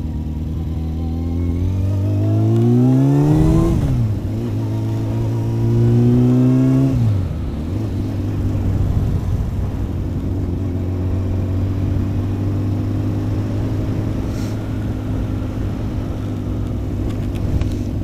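A Kawasaki motorcycle on a road at night: the engine revs up loudly and close through two rising climbs, then settles into a steady droning cruise with wind noise.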